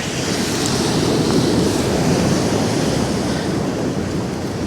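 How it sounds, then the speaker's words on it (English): Choppy sea surf churns in a steady roar on a Pevensey beach, with strong winds of about 30 mph gusting harder and buffeting the microphone throughout, loud and continuous with no voices. "Waves pulling that round. It's pretty choppy, pretty windy day."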